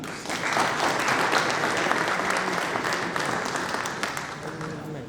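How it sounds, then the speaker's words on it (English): Audience applause at a CEO summit in Asia, a dense, steady wash of clapping from a large crowd lasting the whole stretch, loud and even with no voices over it. "Can I hear an applause for Pakistan, please?"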